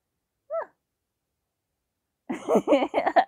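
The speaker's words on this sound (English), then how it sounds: "what's wrong with the cat?" A single short meow, then silence, followed by a longer run of strained, wavering meows close by.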